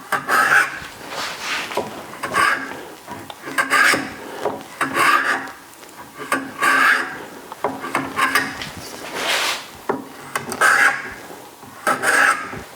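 A hand plane shaves across the end grain of a wooden board in repeated rasping strokes, roughly one every second or so, close and fairly loud with short pauses between passes.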